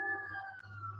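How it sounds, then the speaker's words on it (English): An emergency vehicle siren wails outside, a steady, slowly falling tone heard faintly at a distance with low background hum. "You've got sirens and cats all around you, Steve."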